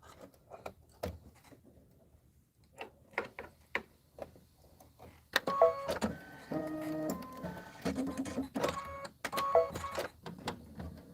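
An embroidery machine stitches a bottle rim fill: sparse soft clicks and ticks at first, then a steady, fairly close mechanical whirring with rhythmic tonal motor pulses once stitching gets going.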